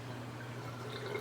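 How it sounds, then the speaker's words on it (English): Ice cold water fills a pot while tomatoes are prepared for canning, making a faint, steady trickle that lasts only a moment. "then I'm going to fill this back up."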